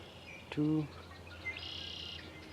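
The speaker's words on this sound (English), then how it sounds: "Hear all those birds?" Birds chirp and sing softly in the open air by Spicer Lake, with a brief louder call and a thin high trill, over a low steady background hum.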